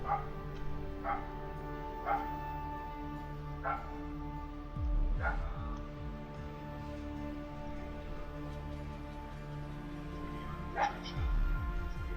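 A dog gives a series of short, faint yips and barks at roughly one-second intervals, heard over a steady background hum.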